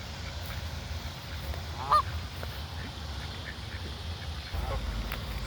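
Domestic ducks and geese at a pond, giving a few faint, distant honks and quacks over a quiet, steady outdoor background, with no talk.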